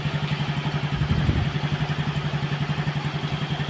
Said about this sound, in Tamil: வண்டி ஸ்டார்ட் பண்ணிட்டோம்.